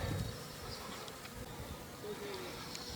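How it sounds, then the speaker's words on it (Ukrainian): Honeybees on a cleansing flight buzz in a steady, faint drone around the hive outdoors, a soft continuous hum with no talking, as the weather turns toward rain. "Ось поки поки самі нетерплячі бджолки завершують свій обліт."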